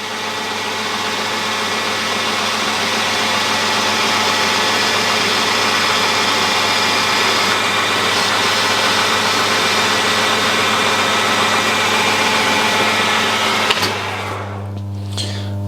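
A metal lathe threads an arbour with a carbide cutter, a loud, steady mechanical drone with a constant low hum throughout, shifting in tone near the end as the cut finishes.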